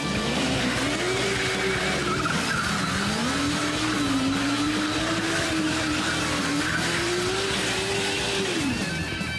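A Formula Student race car with a Honda Hornet sportbike engine revs high and rising, its pitch climbing and dipping as it drives past at speed, loud and continuous.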